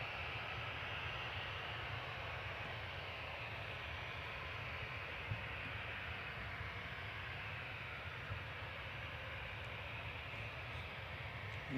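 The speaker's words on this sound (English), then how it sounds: "Coming in from Doha now is Qatar Flight 23, 787-9, A7BHH" Qatar Airways Boeing 787-9 arriving from Doha at Manchester Airport, a steady distant jet engine roar that holds evenly throughout, fairly faint and with no talking over it.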